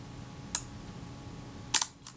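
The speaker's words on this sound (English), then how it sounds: "if I press this down very gently, I can hear a click" A Kodak Retina IB film camera's shutter release: two sharp, close mechanical clicks, a single one and then a slightly louder doubled one, against a quiet room with no talking.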